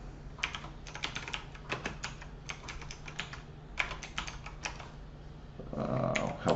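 A terminal command is typed on a computer keyboard in quick, steady bursts of close key clicks. Near the end a longer run of keystrokes sounds a little heavier. No one speaks.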